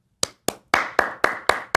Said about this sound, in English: I just want to give a little applause here and say bravo